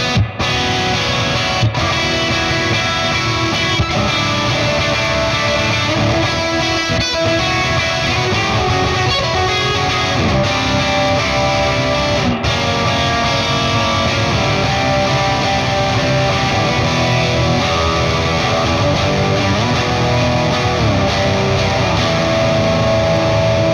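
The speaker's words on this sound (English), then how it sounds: "Throw a little bit of the spring reverb in" A dense, sustained electric guitar tone through an Orange Rockerverb 100 MKIII head with spring reverb, washed in reverb and ringing continuously, loud and full throughout.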